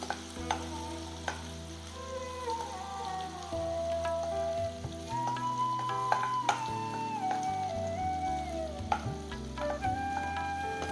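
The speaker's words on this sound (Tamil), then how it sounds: "இஞ்சி பூண்டு சேர்த்த பிறகு இஞ்சி பூண்டு நல்லா வதங்கட்டுங்க." Ginger and garlic sauté in oil in a pan for a spicy pepper chicken gravy, a steady sizzle under scraping and tapping from a stirring spoon, with a low hum and occasional clinks, no voices.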